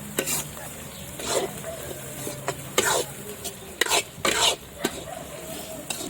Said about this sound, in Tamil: ப்ரான் கிரேவி வெங்காயம் நல்லா வெந்துட்டு இருக்குங்க.